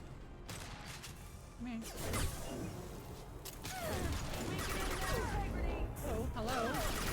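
Video game gunfire while shooting at an enemy, bursts of sharp shots and clanking mechanical hits scattered over busy game sound, with brief speech.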